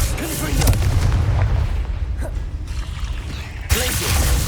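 Repeated Confringo blasting spells in a video game, heard as loud booming explosive bursts that rumble continuously through the clip, with a sharp renewed blast near the end.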